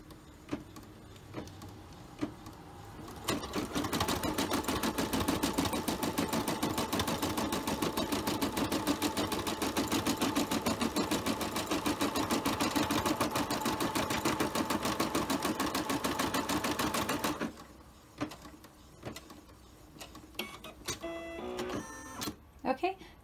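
A Brother embroidery machine stitches an applique, a rapid steady mechanical clatter running for about fourteen seconds before stopping, with quieter handling noises before and after and someone talking.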